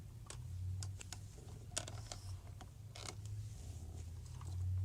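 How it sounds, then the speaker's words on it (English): Plastic joints on a 2019 Toy Story 4 Buzz Lightyear action figure creak and crack as the limbs are moved, a series of close, dry clicks and creaks with no talk over them. "he kind of creaks and cracks whenever you move his joints"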